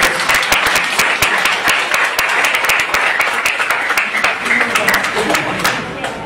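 Sustained, dense applause from an audience at a Catholic charismatic prayer meeting, steady and loud throughout with sharp individual claps standing out near the front.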